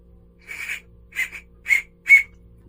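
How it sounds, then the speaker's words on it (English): A small survival-kit whistle is blown four times in short, separate shrill blasts, each a little louder than the last, close and alone over a faint background hum. "A whistle."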